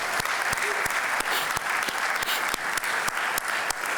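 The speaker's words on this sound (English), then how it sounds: "Let's have a quick round of applause for everyone that's been involved." A crowd applauds at a synagogue tribute evening, steady dense clapping from many hands with a few sharper individual claps standing out at regular intervals, sustained at an even level throughout.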